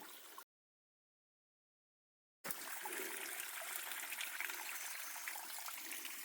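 Spring water trickles off a leaf used as a spigot into a bottle on the Appalachian Trail, a faint steady stream that cuts out for two seconds and then resumes, with no voices.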